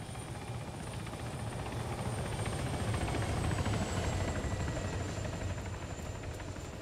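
A helicopter's steady rotor thump and engine drone in the game Arma 3, loud and close, holding constant throughout with no voices.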